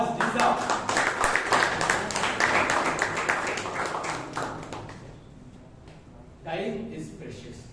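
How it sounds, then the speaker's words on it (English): A Toastmasters meeting audience in Bangalore gives a Toastmaster a round of clapping, lively and dense at first, then tapering off into quiet before a speaker's voice returns. "A bigger round of applause for Toastmaster George Disa."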